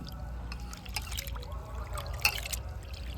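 Baby food ingredients for homemade cerelac being rinsed in water in a kitchen bowl: faint, soft trickling and sloshing with a brief splash near the middle, quiet and close, with no voices.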